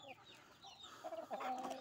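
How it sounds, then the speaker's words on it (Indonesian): Chickens clucking close by as they compete for morning feed, a busy cluster of short, overlapping calls that grows louder toward the end, with scratchy background noise. "inilah komunitas ayam ya komunitas ayam yang hadir di sekitar kita"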